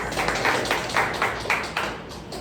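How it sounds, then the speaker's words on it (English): An audience at a Toastmasters club meeting claps for a guest coming on stage, a steady patter of hands for a couple of seconds with no voices over it. "A round of applause."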